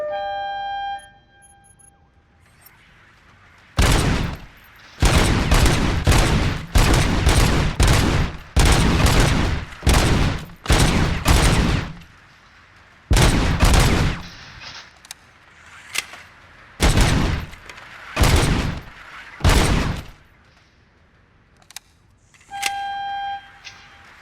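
At a shooting range in the video game RoboCop: Rogue City, heavy automatic gunfire comes in a long series of loud, sustained bursts with short gaps between them. A tonal alert sounds at the start and again at the end.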